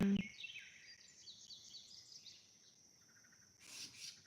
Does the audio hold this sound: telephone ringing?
no